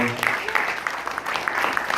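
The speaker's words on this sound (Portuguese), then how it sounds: "Dê uma salva de palmas ao Senhor." A church congregation claps during a worship service, with brief close, loud clapping and a voice heard alongside.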